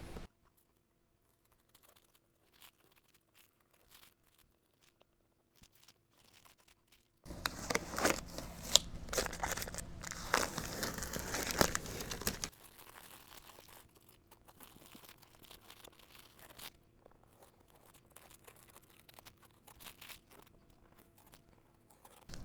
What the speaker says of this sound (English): start pulling off some of this tape until I get to this square here